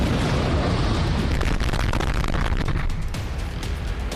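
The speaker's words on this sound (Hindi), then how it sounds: "इन बमों में से एक के विस्फोट ने कार का पूरा नक्शा बिगाड़ दिया।" A cluster bomb blast heavily damages a car in Israeli CCTV footage, a loud, dense roar of explosion that rumbles on for several seconds before easing slightly, with no voices.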